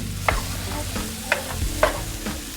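Minced garlic, lime zest and asparagus sauté in a hot pan, giving a continuous close sizzle with three distinct scraping stirs spaced about half a second apart, and no one talking.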